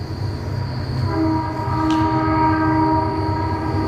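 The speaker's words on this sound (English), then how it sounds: "Listen to this train" A train rumbles past nearby under a steady low roar, and partway through its horn sounds a long sustained chord over the continuous rail noise.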